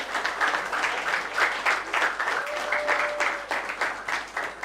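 Crowd applause welcoming the patron of Chigezi College at a school debate gathering, steady clapping throughout with a faint whistle-like tone partway through.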